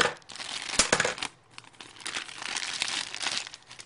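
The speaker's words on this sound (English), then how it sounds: "Big old package of stuff here. Okay, let's rip into this." A large mail package is torn open with hockey trading cards inside, giving loud crinkling, crumpling and ripping of paper and plastic in uneven bursts with a short pause partway through, close to the microphone.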